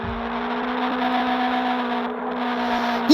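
A car in the racing game DriveX drives on asphalt on a New York map, giving a steady engine drone with a constant tonal hum and road rumble, close and even, before a brief sharp pitch rise at the end.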